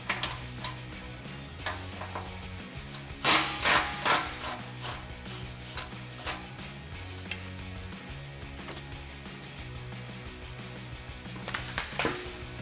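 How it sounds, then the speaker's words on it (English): A ratchet with a 15mm socket loosens an exhaust clamp over the axle of a Jeep Wrangler JL, a close series of rapid clicking ratchet bursts with pauses between strokes, some louder metallic clacks mixed in. "loosen up this clamp right over the axle using our 15mm socket"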